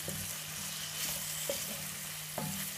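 Onions sizzle steadily in a heated pan while being cooked for a Kenyan liver dish, a continuous close frying hiss with a few brief scraping stirs and no talking.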